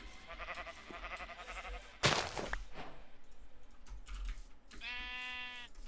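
A sheep bleats in the Minecraft video game, a harmonic wavering call near the end, preceded by game sounds and a sharp burst of noise, with a steady low background throughout.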